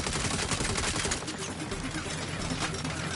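Turret gunfire in Saints Row, a steady stream of rapid shots with dense crackling bursts, fairly faint and continuous, with no talk.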